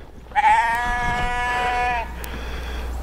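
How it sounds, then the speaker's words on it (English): Sheep bleat in a grassy paddock, one long wavering bleat standing out clearly for about two seconds over steady outdoor background noise. "So the sheep have been clearing it."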